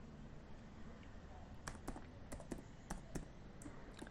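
CSS code is typed on a computer keyboard, a run of sharp, close key clicks in an uneven rhythm over a quiet background hum.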